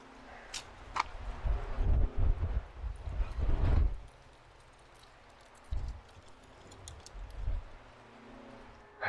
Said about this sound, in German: im Moment windet es gerade ziemlich da